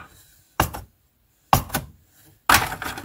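Laser-cut cardboard coasters are popped out of a cardboard sheet in three sharp, crisp snaps spaced about a second apart, each close and brief with a short rustling tail, with quiet between.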